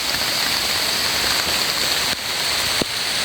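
Steady, heavy rain pours down outdoors in a wet rural area during mushroom foraging, a dense continuous hiss with a couple of brief knocks near the end and no talking.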